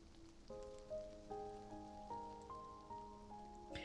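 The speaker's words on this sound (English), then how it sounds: "Raindrops pitter-patter against the umbrella." Soft rain patters steadily on an umbrella in the video game Love and Deepspace, a faint, even hiss beneath a gentle sequence of chiming musical notes that rise one after another.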